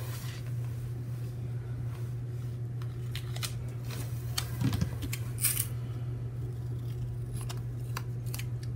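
Scissors snip paper planner dividers in a few brief, close cuts around the middle, with a steady low hum throughout and no talk.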